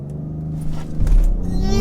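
A BMW X4M Competition accelerating hard, its engine note a deep rising roar with a swelling rumble heard from inside the car, loud and continuous over a short burst.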